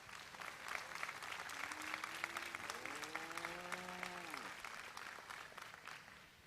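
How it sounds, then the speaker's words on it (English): Applause from a crowd in the show ring at a 4-H county fair dairy show fills the scene with a steady patter of clapping, while a brief tonal sweep rises and falls in the middle. "so give them a big round of applause."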